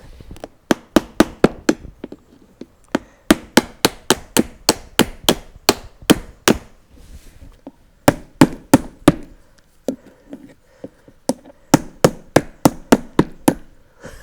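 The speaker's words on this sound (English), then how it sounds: "Let's see if we can knock out these carriage bolts" Sharp hammer blows strike to knock carriage bolts out of an arcade cabinet, loud and close, in rapid runs of ten or more hits separated by short pauses.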